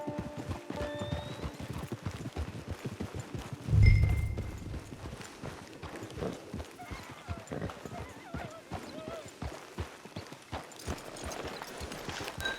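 Horse hooves clip-clop steadily throughout a ride in the Red Dead Online video game, with a brief heavier thump near the start and a whinny, all under faint game ambience.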